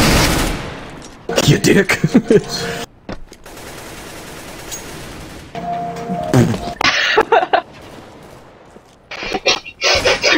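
Rapid bursts of gunfire in a video game death match, loud and close, coming in several clusters separated by brief gaps, with a player shouting angrily over them.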